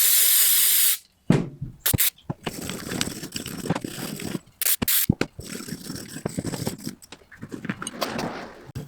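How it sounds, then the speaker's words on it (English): A short, loud burst of brake cleaner spray hisses inside a metal suspension shackle, then steel-brush scraping and rubbing noises on metal follow, close up with brief gaps. "I'm just going to spray the inside of the shackle with brake cleaner"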